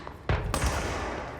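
Sharp gunshot bursts from a sniper in the video game Control, a loud crack followed by a second report and a lingering rumbling echo.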